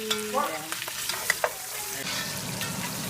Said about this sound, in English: You want a fry sound, for sure.